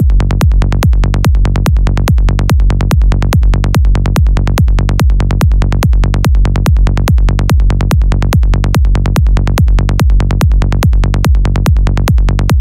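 Synth bassline with envelope 3 routed to the filter cutoff, playing a steady run of evenly spaced, punchy plucked notes with sharp filter sweeps, loud and alone with no voices.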